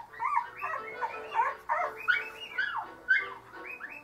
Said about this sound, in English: Loving mom Bridget is quick to answer her puppy's call and swoops in to the rescue.